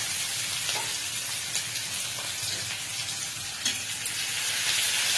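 Potato mash ingredients fry in a pan for an Alur Chokha, a steady broadband sizzle running throughout with a few soft scraping stirs, close and fairly even in level, with no voices.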